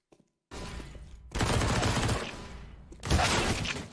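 MP9 submachine gun fire in CS:GO: after a couple of tiny clicks, long rapid bursts of automatic fire come in dense, loud stretches, with a brief dip between them.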